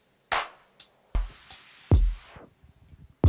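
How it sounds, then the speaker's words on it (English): Drum tracks from a beat, played back with mixing plugins engaged: punchy kicks and snares in a sparse, irregular pattern with a few bright hits and reverb tails, loud and close, no voices. "I'll just give you a blast of the drums with plugins on."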